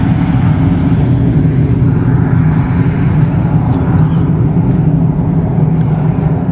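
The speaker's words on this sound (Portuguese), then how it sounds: "Pouso noturno aqui em Sorocaba. Aliás, decolagem noturna." A loud, steady jet engine roar from an airplane taking off at night at Sorocaba Airport, Brazil, a continuous low rumble with faint high clicks, no speech in the foreground.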